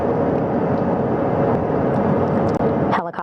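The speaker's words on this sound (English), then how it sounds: "Helicopter 1 again hovering 40 feet over the front porch" Rescue helicopter hovering about 40 feet above the front deck of a recovery ship during Artemis II splashdown recovery: a loud, steady broadband rotor and engine roar that dips briefly near the end.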